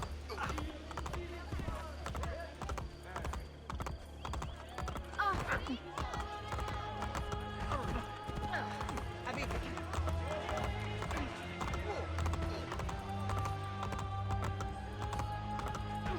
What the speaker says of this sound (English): I'm glad I made it that I can use horses